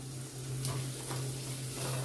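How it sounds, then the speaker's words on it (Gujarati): Ginger, chilli, boiled peas, turmeric and a spice mix sautéing in oil for potato kachori filling, a soft steady sizzle close up with a couple of faint stirring scrapes. "મસાલો સરસ આપણે તેલમાં પહેલાં થોડી વાર 25-30 સેકન્ડ જેવું સાતરીશું।"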